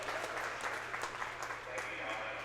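Crowd at a high school conference swimming prelims meet cheering and clapping steadily throughout, a broad dense wash of applause and voices filling an indoor natatorium.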